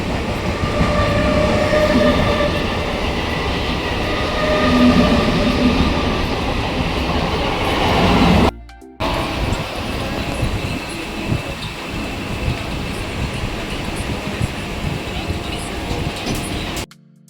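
A train's steady rumble and rail clatter runs continuously, loud and close, with a brief cut midway and voices talking faintly underneath.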